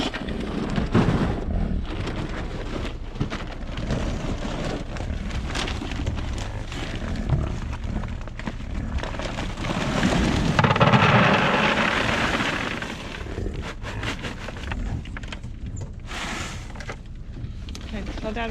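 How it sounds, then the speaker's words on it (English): Rain falls with rumbling thunder on a cloudy day outdoors at a bison farm. The steady noise runs throughout and swells in the middle, while people talk over it. "It's been actually kind of cloudy, a little bit rainy."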